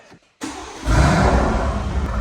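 An Aston Martin Vantage with a newly fitted exhaust, valves closed, cranks briefly and fires up, then settles into a fairly subdued, steady idle.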